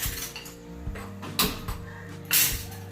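A pot filled with chopped vegetables is set down on a gas stove with a few sharp metallic clanks and knocks, close and separated by brief pauses.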